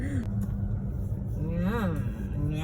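Passing cars and engine rumble on a busy road, a steady wash of traffic noise with one vehicle sweeping by mid-way, while people talk over it.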